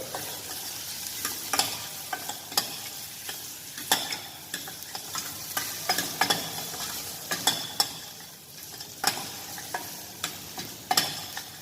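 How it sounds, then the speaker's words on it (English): Broad beans stirred with a ladle in a frying pan, repeated scraping strokes in an uneven rhythm over a soft continuous sizzle, close up with no talking. "So make sure you continuously stir with ladle."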